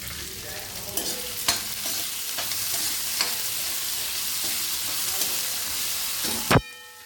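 Salted potatoes fry in a pan with a steady loud sizzle, punctuated by repeated scraping stirs and a sharp clatter near the end; no one speaks.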